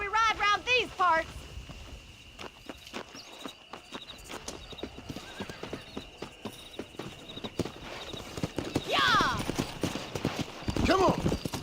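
Horse hooves clip-clopping in the western video game Red Dead Redemption, a steady rhythmic trot with a couple of whinnies, moderately close, while people talk over it at the start and end.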